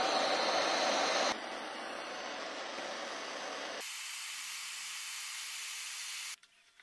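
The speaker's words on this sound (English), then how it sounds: "Now we are going to hit the end of this tube with a blowtorch to be able to flatten it." A blowtorch heats the end of a metal tube, giving a loud, steady roaring hiss that shifts in tone partway through and cuts off near the end.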